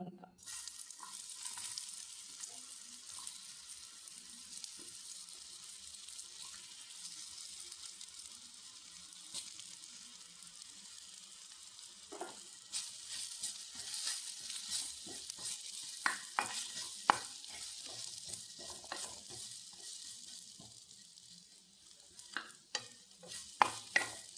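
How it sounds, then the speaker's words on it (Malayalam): Eggplant frying in a pan for a chutney, a quiet continuous sizzle with intermittent stirring scrapes and clicks that cluster more densely in the second half, no talking. "വഴുതണയെല്ലാം മൂപ്പിച്ച് വെച്ചു"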